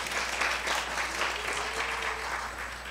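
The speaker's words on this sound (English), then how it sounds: "Please give them a big round of applause." An audience at an elementary school winter concert applauds the music teachers, a dense, steady clapping from a crowd filling the room throughout.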